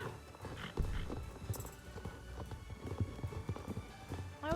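Horse hooves clip-clop in the video game Star Stable, a quiet, irregular run of soft thuds at a trotting pace, faint and alone without talking.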